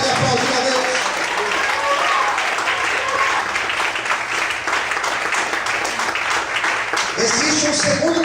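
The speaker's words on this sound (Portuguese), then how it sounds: "Será que você pode aplaudir a Deus?" Congregation in an evening church service applauding: sustained dense crowd clapping with cheering voices and some background music, loud and continuous for several seconds.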